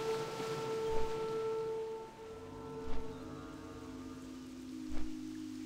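Steady rain falls on Theramore Isle in World of Warcraft, a soft continuous hiss, joined by tonal hums and periodic low thuds roughly every two seconds.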